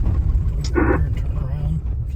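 A truck idles and rumbles steadily near a mountain summit, a constant low engine drone filling the clip with a brief brighter burst of sound in the middle.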